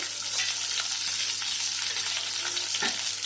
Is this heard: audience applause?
no